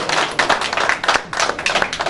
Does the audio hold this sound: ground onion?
no